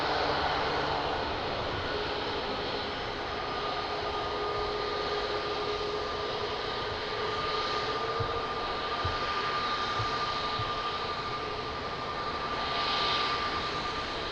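A Ryanair passenger jet at Lisbon Airport gives a steady, distant roar of jet engines with a faint whine running through it, holding at an even level with no talk.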